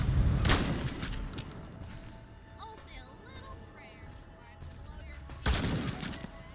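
Gunfire in Fallout Frontier comes as two loud bursts, one at the start and one near the end, with quieter game ambience and faint chirps between them.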